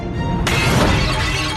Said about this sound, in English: you dropped the plate, which is a ceramic material, on the ground. Any cracks formed in the plate would just propagate right through and it would shatter.